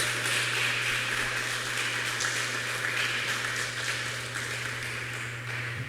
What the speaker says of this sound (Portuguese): Você pode aplaudir o Senhor Jesus mais uma vez?